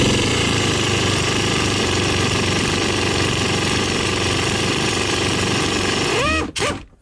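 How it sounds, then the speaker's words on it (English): An impact wrench fitted with a 15 mm 6-point impact socket loosens nuts, giving a loud, steady hammering rattle for about six seconds before it cuts off abruptly. "a 15 millimeter impact socket, a 6-point, fits and does the trick"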